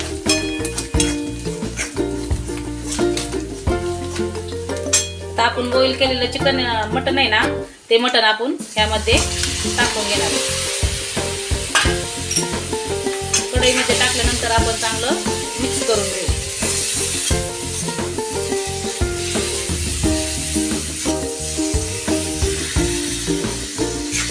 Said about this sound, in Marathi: कोथंबीर छान परतली की त्यामध्ये जे एक चमचा काळा मसाला आणि एक चमचा मटण मसाला घेतला होता ना तो मी टाकून घेणार आहे